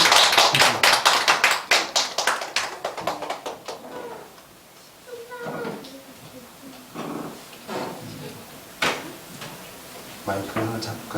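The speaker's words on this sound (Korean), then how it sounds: "우리 나올 때에 우리 힘찬 격려의 박수." A congregation at a Thanksgiving Sunday church service bursts into dense, loud clapping in encouragement, which fades after a few seconds as scattered talking and movement take over.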